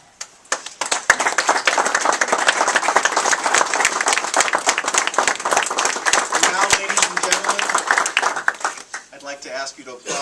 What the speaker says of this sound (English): To ask you to applaud again in just a moment for a very warm round of applause